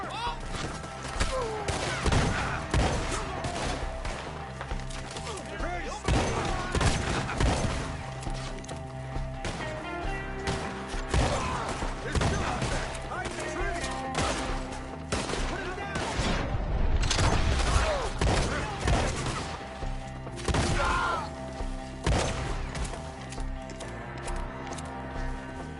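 Gunfire during a shootout in the video game Red Dead Redemption 2: repeated rifle and pistol shots in irregular bursts over several seconds, some near and loud, others distant, under frequent shouting from characters.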